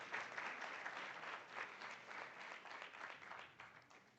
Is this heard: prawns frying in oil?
no